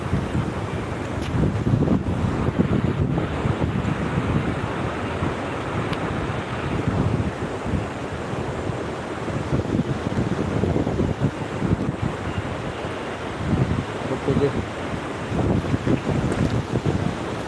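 Sea waves roll in with the rising tide at Digha beach at night, a dense, continuous wash of surf with strong wind buffeting the microphone and no voices.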